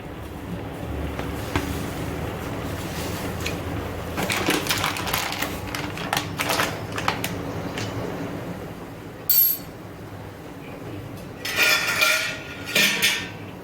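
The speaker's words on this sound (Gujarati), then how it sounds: "હવે આમાં મિક્સ કરી લઈશું." A spoon stirs salt into warm water in a metal pot while making salted peanuts, giving repeated clinks and scrapes against the pot, close and moderately loud, in bursts with short pauses.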